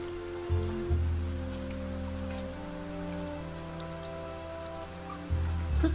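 Rain falling in the video game Niche, a steady soft patter spread across the whole clip beneath sustained tonal music and low droning notes.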